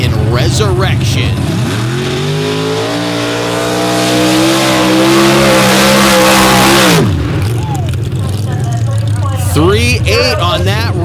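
A Ford mud racing truck tears through a small-tire class run at a mud-slinging event, its engine roaring loud and steady for several seconds before dropping off and shutting down, with an announcer talking over the start and finish.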